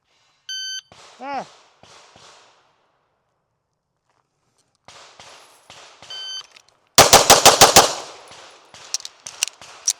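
Rapid, aggressive gunfire in a shooting match: a fast, loud burst of closely spaced shots, preceded by electronic timer beeps and scattered lighter shots, with sparse quieter reports trailing off afterward.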